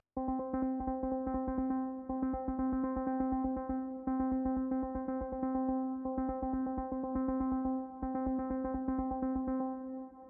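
Thorn by DS Audio synth keys patch played as a fast, steady percussive pulse on a single repeated pitch, plucky and rhythmic rather than melodic, continuing evenly at a moderate level throughout.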